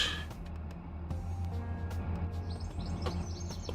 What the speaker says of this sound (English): Oh, I hear woodpeckers.